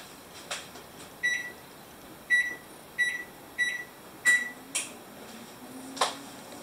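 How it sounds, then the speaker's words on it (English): Oven control panel beeping while the temperature is set to 375: a series of short, sharp electronic beeps at uneven intervals, close by in a quiet kitchen with a soft background hum. "We're gonna set the oven for 375."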